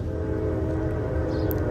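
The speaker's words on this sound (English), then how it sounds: "G402 is an as-needed empty grain train from Waycross, Georgia to Evansville, Indiana." An empty grain freight train rolls past with a steady low rumble and rail noise, a continuous mechanical drone over the full stretch.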